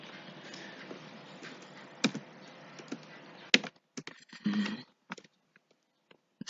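Computer keyboard keys tapped while writing a comment line in a C program: steady bursts of close, crisp clicks that thin into sparse, separated keystrokes with short pauses, no voices.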